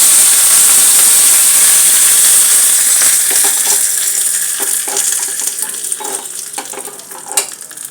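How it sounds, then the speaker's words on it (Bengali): Mustard seeds, a dried red chili and curry leaves sizzle loudly in hot oil, a dense close frying hiss that slowly eases, with small pops and crackles toward the end. "এতে আমি একটুখানি এই যে সর্ষে ফোড়ন দিয়ে দিলাম, একটা শুকনো লঙ্কা দেব"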